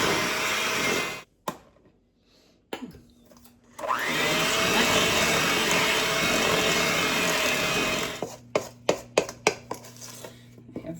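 Electric hand mixer beating cookie dough as flour is added, a loud steady motor whine broken by short stops, then a run of sharp clicks and knocks of beaters against the bowl toward the end.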